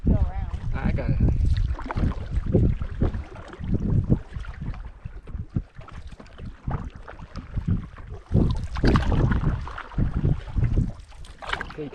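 A canoe on Yellowstone Lake moves with paddle strokes and water sloshing close by, mixed with gusty wind buffeting the microphone and people talking.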